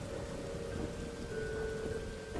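Steady rain falling, a constant dense hiss with no breaks, even and enveloping throughout, with a faint underlying hum.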